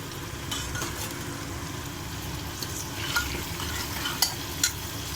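Garlic and turmeric frying in oil in a pan, a steady hiss of sizzling with a few sharp clicks and scrapes of stirring near the end, no talking.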